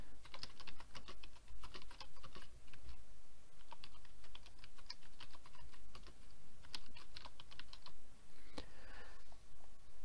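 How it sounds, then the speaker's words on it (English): Typing on a computer keyboard while making a blog post, a steady run of quick, close key clicks over a constant background hiss, going on throughout. "And then you can insert your content, either copy or paste it, or just type it in."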